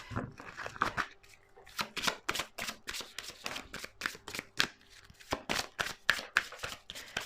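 Tarot cards being shuffled in a fortune-telling reading, a steady run of crisp riffling snaps and slaps repeating close up, fairly quiet, with no one talking.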